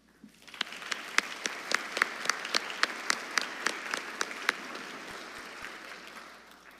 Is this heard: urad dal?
no